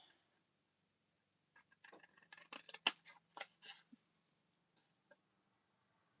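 Scissors snip through card to cut tabs for an Easter explosion box, a quiet cluster of short crisp cuts in quick succession, close by with no talk.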